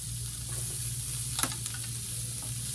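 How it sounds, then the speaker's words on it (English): Shrimp sizzling in a dry salt and pepper stir fry in a wok, no sauce: a steady close hiss with a couple of sharp scrape or stir clicks around the middle. "This is dry stir fry."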